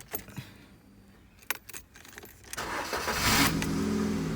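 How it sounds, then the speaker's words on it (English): Ford Fiesta Mk7 being started after front brake work: keys rattle and a few clicks near the mic, then the engine cranks and catches into a steady, rising idle. "then you can start the car"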